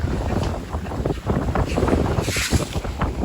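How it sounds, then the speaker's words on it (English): Wind buffets a sailboat at sea, a steady rough roar of gusts across the microphone mixed with water washing around the hull, loud and close with no talking. "The wind's not blowing in the direction we want it to blow."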